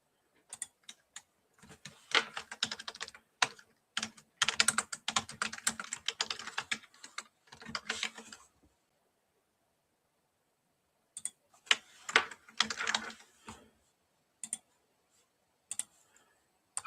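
Rapid computer keyboard typing mixed with mouse clicks, close and crisp, in dense bursts that pause for a few seconds midway before resuming in shorter runs; no talking.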